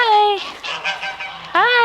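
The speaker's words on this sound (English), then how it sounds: "Hi, pretty birds." Geese honking loudly and close on a farm with a garden and greenhouse, two long nasal honks framing a burst of shorter, rougher calls.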